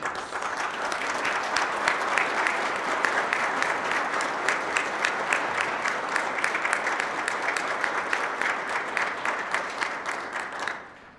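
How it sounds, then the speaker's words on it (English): Sustained crowd applause at a Military Signing Day ceremony, many hands clapping densely and evenly for about ten seconds before tapering off quickly at the end. "A round of applause, please."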